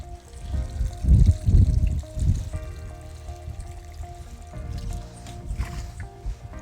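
Water poured onto the soil of a freshly planted container plant in a home container garden, a few soft splashing pours close by, then a quieter trickle and dribble as the soil soaks it up.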